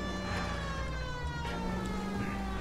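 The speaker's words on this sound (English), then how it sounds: "I'm using the siren now" A police car siren wails steadily in the LA Noire video game, its rising and falling tones riding over a continuous low engine rumble while the car drives on.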